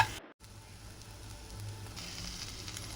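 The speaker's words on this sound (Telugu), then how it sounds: "ఈ క్యాప్సికమ్ ముక్కలను లో ఫ్లేమ్లో వేయించుకుంటూ ఉండాలి." Capsicum pieces fry gently in a pan over a low flame, giving a soft, steady sizzle that carries on throughout with a brief dropout near the start.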